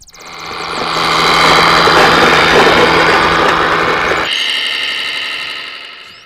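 A toy tractor's engine noise rises to a loud, steady buzzing drone that holds for several seconds, then cuts to a softer hum before fading.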